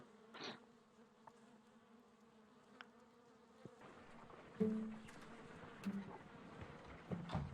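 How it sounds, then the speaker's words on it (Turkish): Steady insect buzzing of bees and flies, a low droning hum throughout with a few louder passes, accompanied by faint game sound effects from Sherlock Holmes: Crimes and Punishments. "Sinek sesleri, arı sesleri geliyor."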